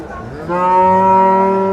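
A Friesian cross cow at a Bangladeshi cattle market lets out one long, loud, close moo that starts after a half-second of background murmur and holds steady to the end.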